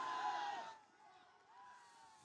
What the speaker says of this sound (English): UVic crowd hollering for that one